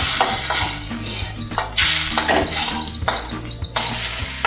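Raw ground onion paste sautéing in a pan for green peas poriyal gives a steady sizzle under frequent scraping and clanks of a spoon on metal, close and fairly loud.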